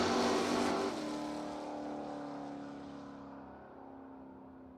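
Drag cars, a Nova and a 1969 Camaro, launch at a No-Box 660 Shootout, the loud burst of engines at the start fading quickly into a more distant roar that trails off.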